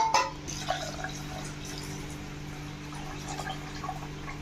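Water pours into a pot of tamarind, tomato and okra curry with a steady, faint splashing wash of sound, no voices.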